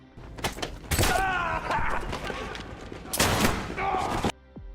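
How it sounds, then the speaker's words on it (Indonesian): Bursts of rapid gunfire and loud impacts fill a chaotic shootout, with groans and thuds in between, ending in a sudden cutoff. "Baku tembak terjadi begitu sengit hingga Brock terkena tembakan."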